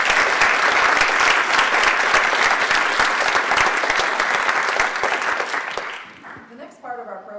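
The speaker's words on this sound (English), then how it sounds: "So again, another round of applause." A large audience at a food justice event applauds in a steady, full round that fades out near the end as a speaker's voice returns.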